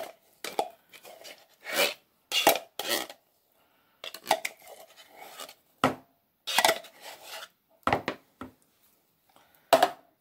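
A Tupperware spatula scrapes solid-packed Libby's pumpkin out of a can in a kitchen, a run of short, close scraping and knocking strokes separated by brief pauses, with no talking.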